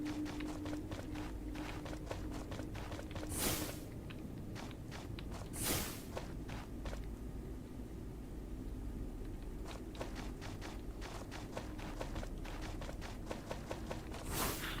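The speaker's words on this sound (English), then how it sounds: "The very heavy footsteps that cause the rumbling." Heavy, rumbling footsteps of a large monster in a video game fall in a steady, continuous rhythm over a low droning background, with a few louder thuds or whooshes punctuating the tread.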